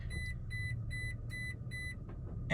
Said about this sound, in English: push this dial in and go to 4 low. It's going to beep.